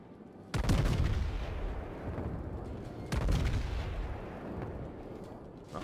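Heavy battleship main-gun salvos from a Tier 4 Wyoming in World of Warships, two loud booming volleys about two and a half seconds apart, each with a long rumbling tail over steady background battle noise.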